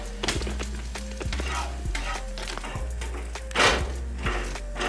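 An egg fries in a pan with a steady, close sizzle and a few soft taps and scrapes from stirring throughout.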